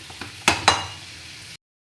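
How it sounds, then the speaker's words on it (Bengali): Pumpkin curry with onion and green chili frying in a pan: a low sizzle with two sharp stirring scrapes near the start, then the sound cuts off abruptly. "কুমড়োর তরকারি হচ্ছে, প্রায় শেষ তরকারি রান্না"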